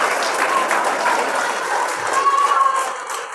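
An audience at a children's art academy exhibition claps steadily, a dense wash of applause that continues evenly and fades slightly at the end.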